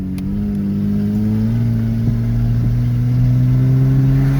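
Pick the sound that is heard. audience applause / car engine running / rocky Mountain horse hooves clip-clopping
car engine running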